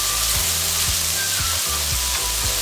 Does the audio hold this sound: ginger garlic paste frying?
yes